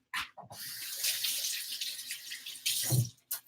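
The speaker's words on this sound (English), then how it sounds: "Gotta wash my hands." Tap water runs steadily into a sink while hands are washed, a close broadband rush lasting a few seconds with a brief break and a short final splash.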